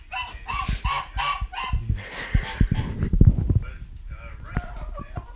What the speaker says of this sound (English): these geese over here are my favorite